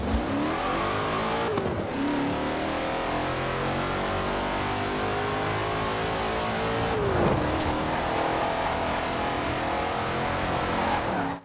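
A Hot Wheels car in Forza Horizon 4, running on thin tires, accelerates at full throttle with a loud, sustained engine roar and rising revs. Two brief gear-change dips break the roar, and tires squeal faintly, with no talk.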